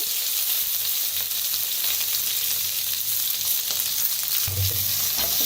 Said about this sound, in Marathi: 1 चमचाभर मोहरी टाकलेली आहे. पत्ता आणि जे वाटण बनवून घेतलं होतं ते